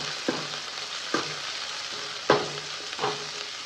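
Chopped onions and curry leaves frying in oil, a soft steady sizzle punctuated by four evenly spaced spoon scrapes against the pan, with no speech.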